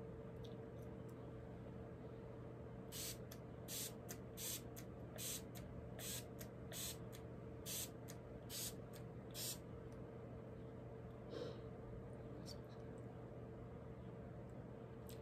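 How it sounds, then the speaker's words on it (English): A lavender and sweet orange wet spray being pumped, a run of about nine quick spritzes in a row, then one or two more, close but faint over a quiet room hum. "let's try this wet spray."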